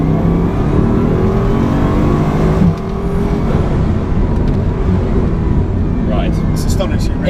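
A Bugatti Chiron, running on two turbos early on, accelerates hard along a straight with a loud, dense engine roar heard from inside the car. A brief dip mid-run sounds like a gear change before the surge resumes.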